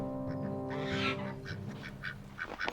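Geese honk repeatedly at close range, a run of nasal, blaring calls that grow more frequent toward the end over a steady low hum.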